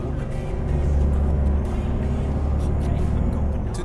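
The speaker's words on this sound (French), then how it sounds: "Là j'adore le bruit du camion." Truck engine in Euro Truck Simulator 2 on the ProMods map, a loud steady low diesel drone at cruising speed with constant rumble throughout, no talk.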